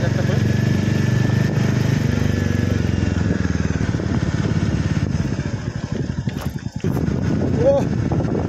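A motorcycle rides a mountain road through hillside streets in Sikkim, its engine a steady loud drone with wind rumble, easing off slightly near the end, while voices talk over it.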